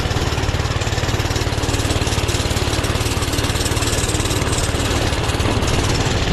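A Doodle Bug minibike's small engine with a new carburetor, labouring uphill, a loud, steady, buzzing drone with fast regular pulsing and rushing wind noise throughout.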